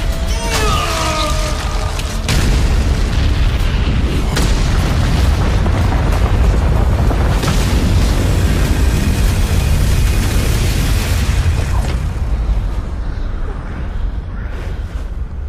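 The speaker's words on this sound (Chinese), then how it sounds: "难道他有自信在这最强爆炸中存活？" A massive blast in the animated series Swallowed Star erupts with a deep boom and then roars on as a loud, sustained rumbling blast wave for many seconds before easing slightly.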